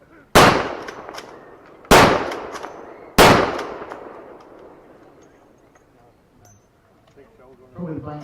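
1940s-era weapon fired with blank ammunition outdoors at a wartime-themed day at The Boat Inn, Jackfield, Shropshire: three loud, sharp reports spaced about 1.5 seconds apart, each ringing out with a decaying echo, then quiet with a voice near the end.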